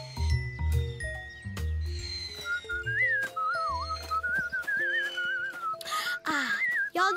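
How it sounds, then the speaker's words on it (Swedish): In a children's cartoon, several characters blow across juice boxes to make wavering whistles and squeaky tones over bouncy music, with sliding pitches and a brief jingly flourish near the end. "Ni tre gör intressanta visslande ljud med era juicepaket."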